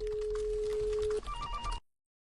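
Telephone ringing: a steady electronic ring tone for about a second, then a short pulsed beeping pattern, close and clear, ending abruptly.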